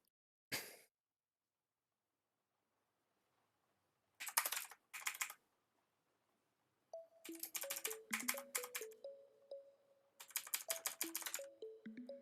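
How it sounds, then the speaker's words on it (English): Bursts of computer keyboard typing in short clusters separated by pauses, with soft game interface tones chiming between keystrokes; no talking. "I'm gonna be faster just typing these."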